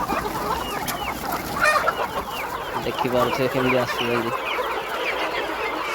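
Desi chickens on a chicken farm cluck and chatter continuously close by, with a few sharper repeated calls midway, while someone talks over them.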